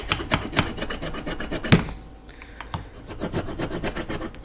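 Wood on a bow is burnished by hand, a close, dry rubbing rasp in repeated back-and-forth strokes, steady at first, easing off midway, then resuming, with no talk.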